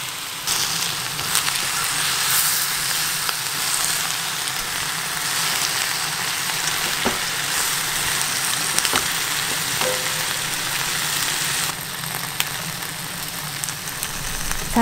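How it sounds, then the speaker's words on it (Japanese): Ingredients are stir-fried quickly to coat them with seasoning, giving a continuous close sizzle with occasional clicks and scrapes from stirring, and no voices. "さっと炒めて全体に調味料を絡めます"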